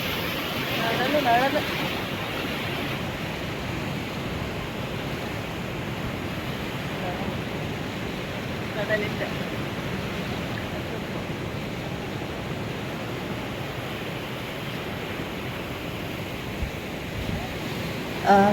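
Sea waves wash continuously onto a Kerala beach at Azhimugham, a broad steady roar of surf with wind, loud and unbroken throughout with a few brief bumps.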